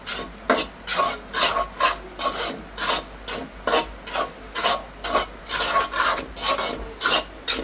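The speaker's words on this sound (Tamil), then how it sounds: "ரவையை வந்து வறுப்போம்" Semolina roasting in ghee in a pan while a spoon stirs it, making steady, close scraping strokes about twice a second with no voices.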